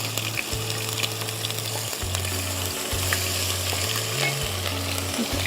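Onion paste fries in a pan for chicken musallam, giving a continuous, moderately loud sizzle over a low, steady stepped hum in the background.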